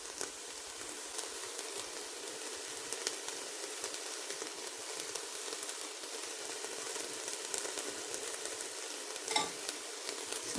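Fine ginger is stir-fried in a hot pan for stir-fry spaghetti, giving a dense, steady crackling sizzle with faint scraping from stirring, close and even throughout with no one speaking.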